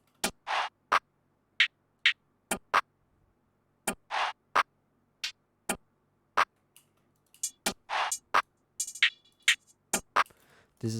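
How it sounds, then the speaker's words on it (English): A programmed hip-hop beat plays alone: crisp, sharp percussion hits and claps fall in a steady, repeating rhythm with brief silences between them. "With a clap, they would sound like this."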